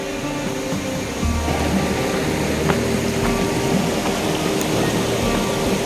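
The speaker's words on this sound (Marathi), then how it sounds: "आणि सीताखाईमध्ये प्रवाहित झालेला हा धबधबा" A waterfall plunging into the deep Sitakhai gorge, heard as a constant broadband roar that swells slightly after the first second and holds steady throughout.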